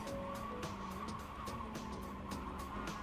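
A Mazda race car under hard braking on a circuit gives a steady, loud engine drone with tire squeal and scrubbing noise running throughout, close and continuous without any talk.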